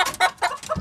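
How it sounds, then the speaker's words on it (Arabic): Indonesian chickens on a poultry farm give several quick, close clucks in under a second, loud and with no talking. "ده الاندونيسي، دجاج اندونيسي."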